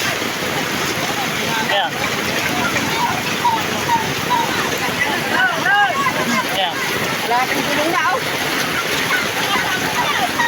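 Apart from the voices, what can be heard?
rushing floodwater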